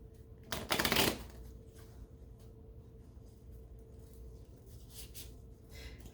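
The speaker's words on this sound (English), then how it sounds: "I have a hard time shuffling on it sometimes." Tarot cards being shuffled on a sheepskin surface, a brief papery riffle burst near the start, then soft faint rustling and handling over a quiet room background.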